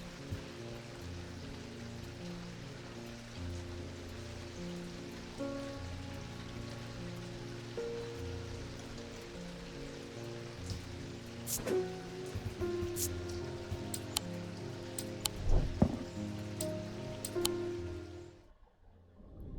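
Rain falling in the video game Strange Antiquities, a steady soft patter on surfaces under a low sustained tone, with a few sharper drops near the end before it cuts off.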